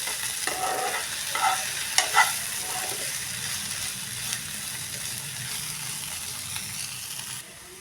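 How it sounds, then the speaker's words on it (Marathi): Crushed garlic and dried coconut being sautéed with okra in a pan for masala bhindi, giving a steady soft sizzle with occasional stirring scrapes and clinks, close and moderately quiet, with no talking. "थोडा वेळ परतत राहूया."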